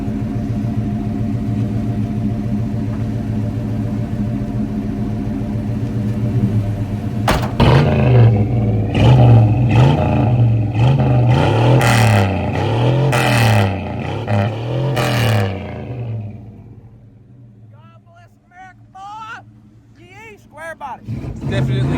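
A GM 350 small block V8 rumbles loudly from inside the moving vehicle, surging through several hard revving pulls before dropping to a quieter idle, with a brief chirpy rattle as it settles.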